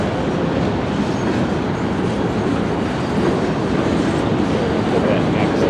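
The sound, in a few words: Union Pacific freight train cars rolling in Denver North yard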